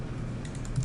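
Typing on a computer keyboard while entering web form settings, a steady stream of quiet, soft key clicks with a low background hum and no talking.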